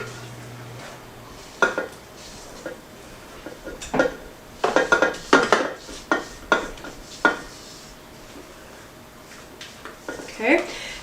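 A spatula folds lemon poppyseed muffin batter in a mixing bowl, giving scattered soft scrapes and knocks against the bowl at an irregular pace, with a voice talking over parts of it.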